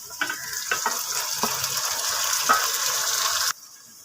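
Minced meat sizzles in a pan with half-cooked onions for a keema and bitter gourd peel dish, a steady bright frying hiss with scattered clinks and scraping of a spoon, ending abruptly into a quieter hiss.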